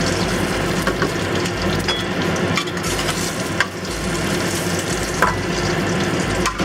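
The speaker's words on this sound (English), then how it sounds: "Cook the bacon to your desired liking." Bacon fries in a pan over medium heat, giving a loud, continuous close-up sizzle with scattered pops and crackles and occasional scraping stirs.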